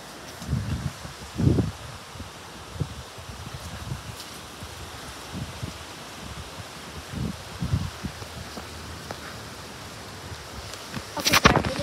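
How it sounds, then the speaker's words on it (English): Gusty wind buffets the microphone in rumbling bursts, with rustling in between and a sharp loud gust near the end. "windy out"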